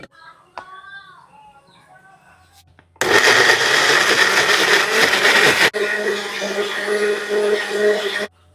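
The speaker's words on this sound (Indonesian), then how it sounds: "Ini bawang putih, bawang merah, kunyit dan serai mau kita blender." An electric kitchen blender grinding garlic, shallots, turmeric and lemongrass into spice paste, starting abruptly with a loud steady whir, then dropping to a slightly different pitch as it keeps running; faint birds and voices beforehand.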